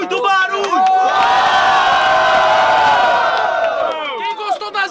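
Crowd at a student rap battle, second round, erupts in loud cheering, whooping and shouting that swells for about three seconds and then tapers off, with a voice talking at the start and close.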